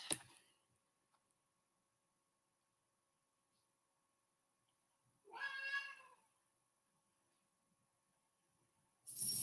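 A pet cat named Tiger Lily meows to be fed, with two short, clear meows close by, one mid-clip and one at the very end, against an otherwise quiet room.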